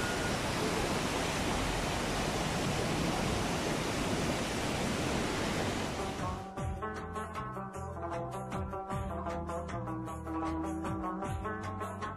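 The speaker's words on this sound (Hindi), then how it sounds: "ये बारिश का पानी इतनी तेज़ी से बह रहा है, ऊपर से ये पानी आ रहा है पहाड़ों से।" Rainwater coming down from the mountains rushes loudly and steadily through a channel for about six seconds, a dense roar, then cuts abruptly to quieter, tonal background sounds, on the foggy road to Murree.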